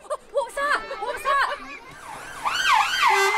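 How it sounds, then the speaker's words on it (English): A wavering fire engine siren rises and falls in quick cycles, with voices chattering over the first part. "The siren needs to be loud so everybody will hear it."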